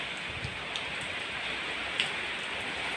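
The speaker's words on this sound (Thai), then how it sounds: "สดชื่นมากฝนตก" Heavy rain falls steadily, a dense broadband wash of drops with occasional sharper ticks on nearby surfaces, continuous throughout.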